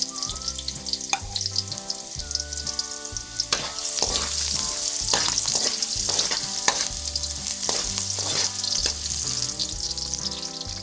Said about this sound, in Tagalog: maglagay lang po kayo ng 3 tablespoon na mantika sa inyong mga kawali. Pagkatapos po ay ilagay natin ang ating ginger.